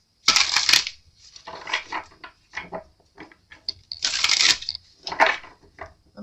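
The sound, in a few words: tarot cards being shuffled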